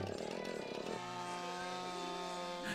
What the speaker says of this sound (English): he's driving himself with a chainsaw, and he's got his skates on.